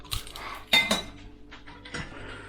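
Spoon scraping barbecue shrimp and sauce out of a pan, a few sharp metallic clinks and scrapes against the pan, close and fairly quiet with no talking.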